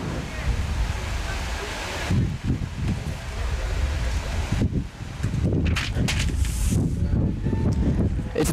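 Gusty wind buffets the microphone in heavy, rumbling bursts at a football stadium during a seventh-grade game, with a brief lull midway, loud and continuous throughout.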